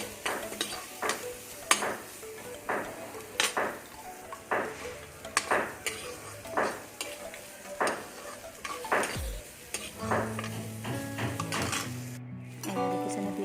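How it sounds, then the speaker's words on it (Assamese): Chopped onions frying in a pan, a steady sizzle broken by regular scrapes and knocks of a spatula stirring against the metal, with clattering pan sounds near the end. "এতিয়া মই কাটি থোৱা পিঁয়াজখিনি ইয়াতে দি দিম। অলপ ৰঙচুৱা হৈ যোৱালৈকে মই ভাজি ল'ম।"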